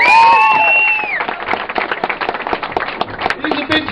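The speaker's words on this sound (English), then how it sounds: "A big round of applause for Joe Conti" Audience at a stand-up comedy show applauding and cheering, a dense burst of many hands clapping after a brief whistle-like tone, continuing steadily at moderate loudness.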